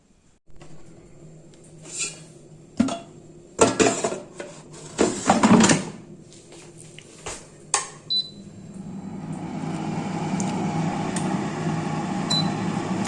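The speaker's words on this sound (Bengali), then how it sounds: "এবার আমি এটা এয়ার ফ্রায়ারে বসিয়ে দেবো" Cauliflower kebabs go into an air fryer, with sharp clunks and clicks of the basket and tray spaced irregularly. Then a steady fan-like whir starts up and holds to the end.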